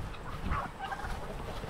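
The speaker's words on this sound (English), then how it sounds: "My baby turkeys, let me get you down here." Baby turkeys make soft, close-up peeping and chirping calls in a few short bursts over a low background rumble, with no one talking.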